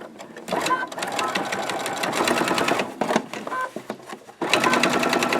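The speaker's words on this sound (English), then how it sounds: "we're going to just straight stitch along the top of this" A sewing machine runs a straight stitch along the top edge of a fabric box, a close, fast, rhythmic mechanical chatter in a few runs with short pauses between them.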